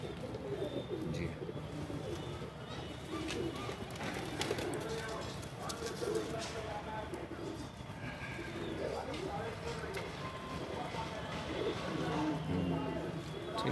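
Madrasi pigeons cooing in a loft, soft repeated coos mixed with ambient bird chatter and occasional flutters, with voices talking over them throughout.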